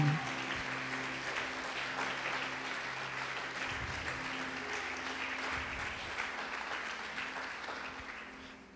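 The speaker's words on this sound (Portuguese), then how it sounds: "Pode aplaudir e glorificar Ele." A church congregation applauds during a Portuguese-language sermon, a dense, steady wash of many hands clapping that holds evenly for several seconds, with faint voices and low sustained tones underneath.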